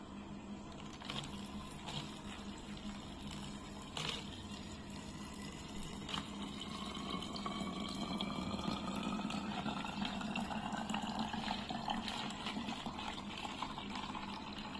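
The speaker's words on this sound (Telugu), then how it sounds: "వాటర్ పోయాలి." Water is poured steadily into a container of bio-enzyme mixture, a continuous close gurgling stream whose pitch rises gradually as the vessel fills, with no talking.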